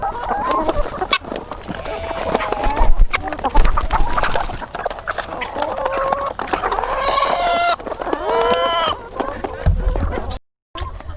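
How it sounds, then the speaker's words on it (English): Chickens and roosters cluck and squawk close by, a busy, overlapping flock chatter with a few louder calls near the end. "Let me show you a few of the chickens and roosters in here."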